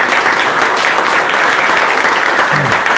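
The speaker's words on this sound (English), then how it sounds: "So, round of applause to the guys." Audience at a charity tasting event applauding the organisers, a dense, loud, continuous burst of clapping from a crowd filling the whole moment.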